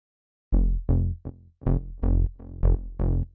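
A simple synth bass made with analog gear bounces through a chord progression in a progressive melodic techno style, with eight punchy, evenly spaced notes sounding loud and alone.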